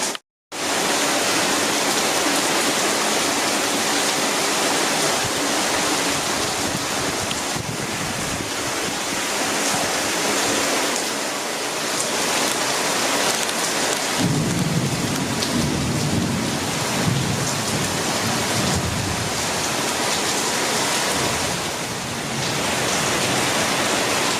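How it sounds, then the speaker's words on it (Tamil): Heavy rain pours down during a thunderstorm, a loud, constant roaring wash, with low rumbles of thunder swelling midway and fading again, and no voices. "மழையை பார்க்க முடியல."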